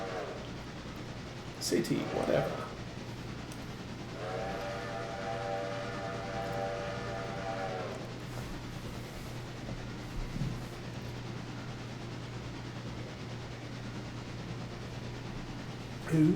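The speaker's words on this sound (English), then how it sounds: "Then we're going to get the passenger train moving." A steam passenger train in the Railroader video game gives a long, steady harmonic whistle blast over a constant low rumble, with brief clanks before it and someone talking over parts of the scene.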